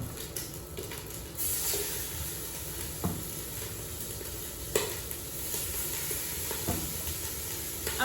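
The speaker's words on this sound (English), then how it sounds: "I'm gonna sear the meat first." Meat sears in a pot for Haitian soup joumou, a steady close sizzle and hiss with occasional stirring knocks and clinks scattered through.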